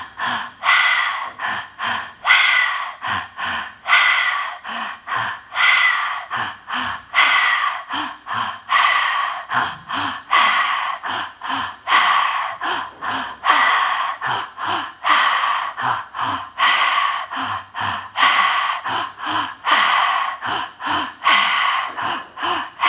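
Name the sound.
breathing in and out through the mouth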